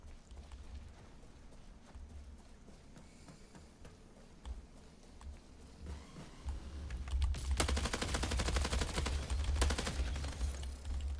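Rapid gunfire in the aim trainer KovaaK's builds into dense bursts in the second half, loud and close, over steady keyboard and mouse clicking.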